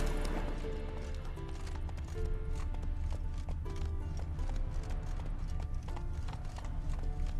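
Roach the horse gallops in The Witcher 3, a continuous run of loud, close, rhythmic hoofbeats set against a dense bed of game ambience and music.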